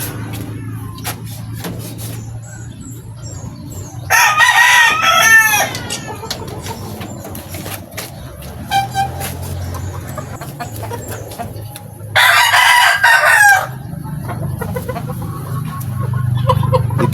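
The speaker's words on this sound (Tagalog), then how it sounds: "Tingnan nyo po, napakagandang manok mga kaibigan." Lemon84 gamefowl rooster crowing in a backyard, two loud drawn-out crows several seconds apart, with softer clucks and farmyard noise between them.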